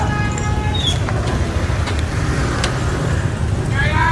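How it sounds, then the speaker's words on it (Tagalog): Road traffic on a street near a school, a steady low rumble of passing vehicles filling the whole stretch, with faint horn-like tones and a voice or two briefly audible in the background. "Traffic."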